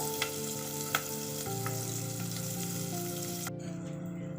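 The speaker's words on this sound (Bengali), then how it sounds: "এবার কড়াইতে আমি পেঁয়াজগুলো ভাজতে দিয়ে দেবো।" Onions frying in a kadai, a steady close sizzle with a couple of faint utensil taps, ending abruptly.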